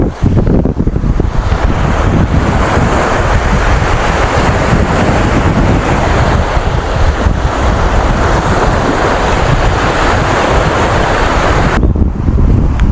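Strong wind blows without pause across a rainy campsite, a loud, steady roar buffeting the microphone for the whole stretch, with surging gusts and a broad rushing wash like surf.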